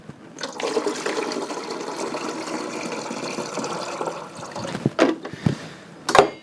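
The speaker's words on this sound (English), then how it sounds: "when you push the coffee button, one moment, you get water out of the brew head like that" Water streams steadily from the brew head of a Gaggia Classic espresso machine, a continuous close splashing flow into a jug that runs for several seconds before tapering off into a few clunks and drips.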